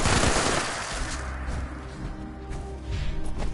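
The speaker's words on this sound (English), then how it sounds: "There's something shooting." Gunfire in the Fallout 76 Wastelanders video game: a loud opening volley of shots with crashing impacts, settling into a low rumble before another burst near the end, with no talk.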